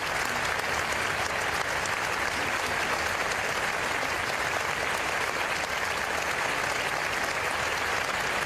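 A large crowd applauds at a tribute to terror victims in Barcelona, with dense, steady clapping that holds at an even level throughout without a break.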